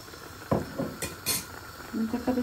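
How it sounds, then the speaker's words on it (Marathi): Tamarind juice being mixed by hand in a cooking pot gives soft scattered clinks, knocks and stirring rustles with short pauses, close by and fairly quiet, with faint talk in between. "ताका बेश्टें हातीन हांव मिक्स करता दिता"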